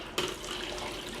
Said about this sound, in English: So I can go ahead and pour that out.